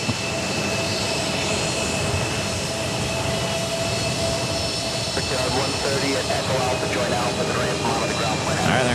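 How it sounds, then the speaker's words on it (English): An Airbus A380 jet takes off at JFK airport, its engines producing a steady, broad roar at moderate distance while people talk over it throughout. "there goes my dad's plane off to Raleigh, Durham. This is the Airbus A380"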